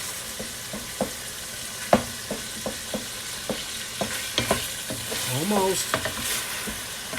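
Meat sizzling in a pot for Brooklyn Sunday sauce while a wooden spoon stirs and scrapes it in a steady series of knocks, with a brief spoken word partway through.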